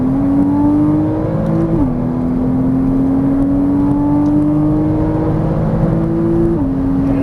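A Porsche Cayman S engine accelerating hard on a race track, a loud, steady rising engine drone heard from inside the car, with two quick drops in pitch at gear shifts before climbing again.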